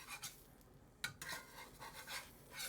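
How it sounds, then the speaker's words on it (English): A metal spatula scrapes seitan loose from a pan, giving quiet, intermittent scraping and light clinks, with one sharper knock near the middle. "I get out a metal spatula and I just start scraping around underside."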